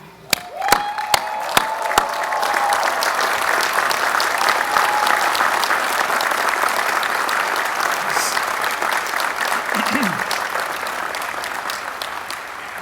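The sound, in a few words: graduation audience applauding graduates' support team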